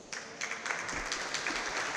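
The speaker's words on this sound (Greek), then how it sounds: "Το υποτικό χειροκρότημα από την κερκίδα" Brief, fairly faint applause from the stands at a women's basketball game, a scattered patter of clapping from the crowd lasting a couple of seconds.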